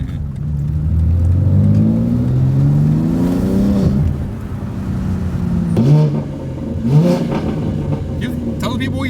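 A BMW G80 M3 with a catted equal length mid-pipe revs loud and close. Its engine note rises and falls in repeated sweeps, with people talking over the rumble.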